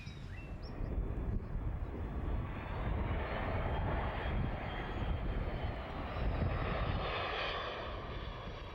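A steady, loud roar of an airplane fills the whole stretch, a broad rumbling engine noise that holds constant without pause.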